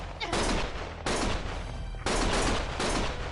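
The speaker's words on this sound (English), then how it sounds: "Stop shooting!" Sustained bursts of rapid gunfire from the video game Lost Judgment, loud and dense, in three long volleys separated by brief breaks.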